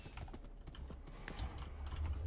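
Horse hooves clip-clop in a Minecraft game, a quick run of light, even hoofbeats that carries steadily through the clip at moderate loudness, with no voices over it.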